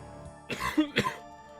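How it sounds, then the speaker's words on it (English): A few short, harsh coughs and throat-clearing bursts from a wheezing man in the game Old School RuneScape, close and fairly quiet, with a faint rasp between them. "He began to wheeze and cough."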